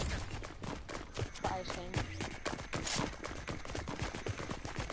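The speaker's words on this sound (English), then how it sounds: "someone's up in the air shooting" Rapid bursts of gunfire from a player shooting in the air during a Fortnite party royale event, dense irregular shots that are fairly faint, with voices in the mix.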